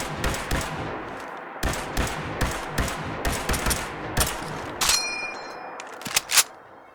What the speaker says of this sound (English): The Laser Garand does come with custom animations too, and of course, that iconic Garand ping.